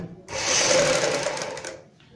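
A sewing machine runs a continuous burst of stitching along the edge of a kurti, a close whirring buzz that rises quickly, holds for about a second and a half, then stops.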